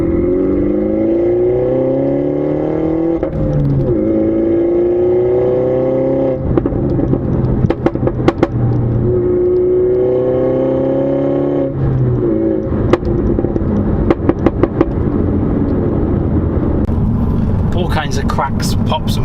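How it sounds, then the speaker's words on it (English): A MINI Challenge 210 with a JCW Pro Bluetooth valved exhaust in sport mode revs repeatedly, engine note rising and falling in several loud, close sweeps, with sharp crackles and pops on the overrun toward the end. "Kinds of cracks, pops and bangs from the exhaust"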